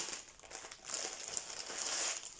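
Crinkly plastic packaging of a DIY cross-stitch kit with a pink-haired mermaid design is torn open, a continuous close rustling and crackling with no voices.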